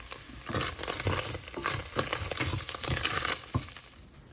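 Picadillo with smoked paprika and onion powder being stirred in a hot pan, a close, continuous sizzle with crinkly scraping bursts as the spoon works through the food.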